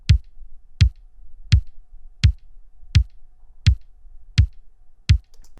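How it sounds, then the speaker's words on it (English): A punchy synthwave electronic kick drum thumps eight times at a steady, even tempo, each hit with a sharp click and a short deep boom, alone. "I'm bringing you a tutorial on how to create a synthwave kick drum"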